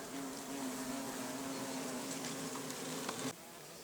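Wasps buzz steadily and close around a dish of water mixed with old honey at an apiary, a continuous droning hum that cuts off abruptly near the end.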